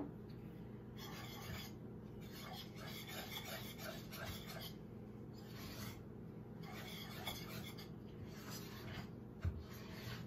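Sticky fry bread dough is scraped down the sides of a bowl, giving quiet, repeated rasping strokes in an uneven rhythm, close-up and alone.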